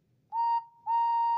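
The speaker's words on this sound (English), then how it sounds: "The guard blew his whistle" Two clear, piercing blasts from a railway guard's whistle close by, a short toot followed by a longer one, with a brief gap between them.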